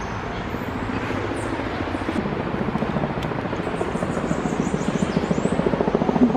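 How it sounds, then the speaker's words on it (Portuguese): A tour helicopter flies overhead at Parque Lage, its rotor chop a steady, loud pulsing that builds slightly over several seconds with no one speaking. "em alguns lugares aqui tem passeio de helicóptero, por isso que vocês estão ouvindo esse barulho"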